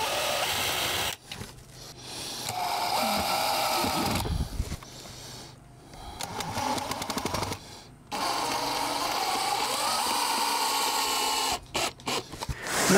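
Self-drilling screws with cut-off tips being driven into wood boards on a bench build, heard as several bursts of whirring power-driver noise separated by short pauses, close and fairly loud.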